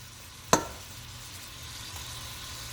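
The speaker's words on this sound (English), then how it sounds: "giving them a nice little brown sear" Chicken pieces sear in a hot pan with a steady, soft sizzling hiss, broken by a single sharp click near the start.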